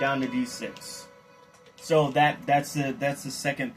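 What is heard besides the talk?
None of the usual background noises is heard.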